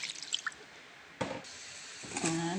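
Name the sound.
water poured from a bowl into a pot of lechon paksiw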